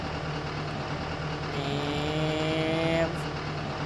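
A SANY excavator engine runs steadily while digging out a waterway, a continuous loud drone with a rising whine of hydraulic strain in the middle, close by and without speech.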